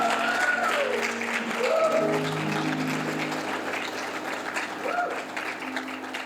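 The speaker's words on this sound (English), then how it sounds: "A round of applause" An audience at a lunchtime talk gives a round of applause, clapping steadily and gradually thinning out, with a voice briefly heard over it.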